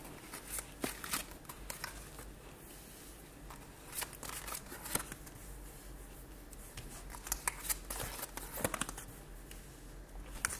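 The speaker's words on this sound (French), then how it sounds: "oups, elles sont trop fines ces cartes, elles courbent." Thin, bendy tarot cards are shuffled by hand in repeated soft riffling bursts with a patter of card edges, close and quiet, with pauses between rounds.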